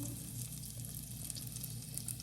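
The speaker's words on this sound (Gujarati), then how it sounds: "હવે આપણે વઘારવાનું છે।" Asafoetida tempering sizzles in hot oil for rajwadi chevdo, a steady dense close hiss throughout with small crackles, no speech.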